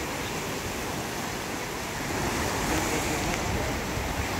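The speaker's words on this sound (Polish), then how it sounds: "Widać, są ogromne fale." A broad, steady rush of water from large waves on the river in Lucerne, heard on a riverside walk, loud and continuous, with no one speaking.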